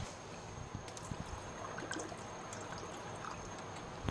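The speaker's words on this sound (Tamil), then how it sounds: "இன்னும் நம்ம ஒரு 1/4 லிட்டர் போல் தண்ணி ஊற்றிக்கலாங்க" Water poured into a drumstick leaves curry simmering in a pan, a steady trickling, gurgling stream heard close up for a few seconds with no talk.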